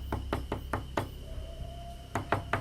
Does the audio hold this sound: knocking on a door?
yes